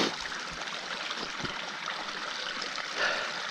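A creek along a ten-mile hiking trail flows steadily, a close, continuous broadband rush and trickle of water with no voices.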